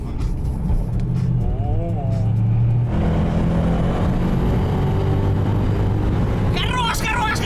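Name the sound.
1000hp bi-turbo Ford Mustang doing a burnout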